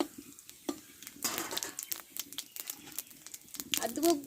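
Dry red chilli, cumin and panch phoron are added to hot oil and crackle, with clinking and scraping from a spoon against the pan under a person talking throughout.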